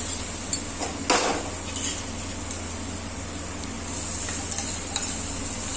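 Steady sizzling of ginger garlic paste frying in a pan, with a few scraping stirs and light clinks of a spoon against metal.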